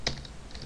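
Typing Java code on a computer keyboard, a quick run of a few soft key clicks, close and quiet in a brief moment.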